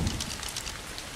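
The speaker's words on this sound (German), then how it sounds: "Natürlich regnet es jetzt wieder." Steady rain falling at night in the video game ARK, a soft, even hiss with faint patters, heard alone at low volume.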